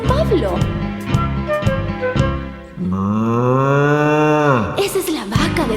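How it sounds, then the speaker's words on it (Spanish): A cow lows in a long, drawn-out moo lasting a couple of seconds, loud and close, with a voice speaking before and after the call. "Escuchemos la vaca de Don Pedro Pablo, que está mugiendo en el establo."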